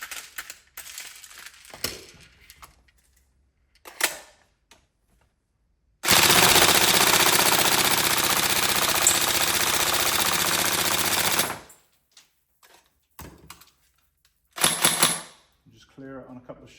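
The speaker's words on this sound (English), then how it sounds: "Always a fast rate of fire on the stock TM motor." A Tokyo Marui 416 Delta airsoft AEG with a stock TM motor fires one sustained burst at a fast rate, a dense buzzing rattle lasting several seconds. Short mechanical clicks and handling noises come before and after it.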